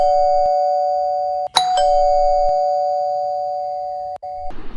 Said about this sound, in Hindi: डोरबेल बजती है